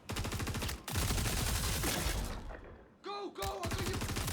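A mid gun fires rapid sustained bursts in Star Citizen, loud and dense with rhythmic pulsing shots, briefly pausing before resuming.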